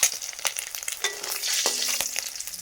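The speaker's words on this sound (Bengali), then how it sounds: "এইদিকে প্রায় আমাদের ডিম ভাজা হয়ে গেছে লাল লাল হয়ে গেছে" Eggs frying until browned in a pan, a bubbling close sizzle with crackling pops and a few clinks of a utensil against the pan.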